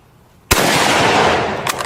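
A single sharp Kar98 bolt-action rifle shot fired at a steel plate on an outdoor range, a loud close crack followed by a long rolling boom, with a faint metallic ping near the end.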